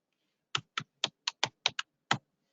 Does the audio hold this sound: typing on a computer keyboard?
yes